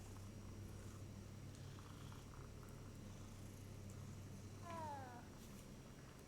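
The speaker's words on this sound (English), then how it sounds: "Oh, I like this cat." A cat in Hogwarts Legacy gives one short, clear meow near the end over a quiet, steady ambient hum with faint background music.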